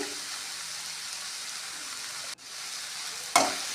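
Tomato and spice mixture being stirred in a pan, a soft steady sizzle with light scraping and a sharp clatter near the end.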